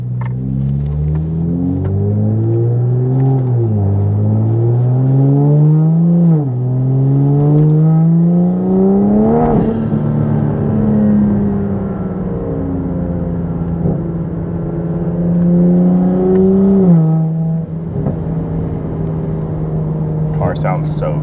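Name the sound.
Toyota Supra engine driving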